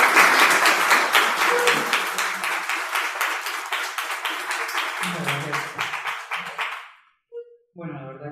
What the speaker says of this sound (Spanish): Un aplauso para Cristian